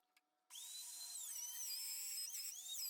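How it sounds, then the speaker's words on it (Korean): A power tool, likely a router, cutting a groove into the top edge of a wooden sliding door, starting abruptly and holding a steady high-pitched whine that wavers slightly as it bites into the wood. "이제 문짝 상단에 홈을 파줍니다"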